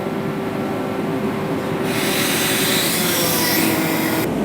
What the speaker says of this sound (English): we can bring the main winch down now